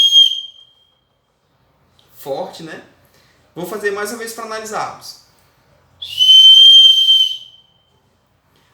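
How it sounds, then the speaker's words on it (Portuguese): A handheld whistle blown in a classroom gives two loud, shrill blasts: a short one at the start and a longer, steady one near the end, with someone speaking between them. "Vamos ver o som do apito."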